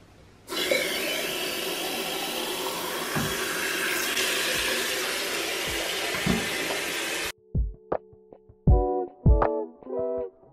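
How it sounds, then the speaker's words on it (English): Water from a tap runs steadily into a water bottle for about seven seconds with a broad rushing hiss, then stops, followed by a few short close knocks and clinks. "I always take my water bottle to make sure I fill it up"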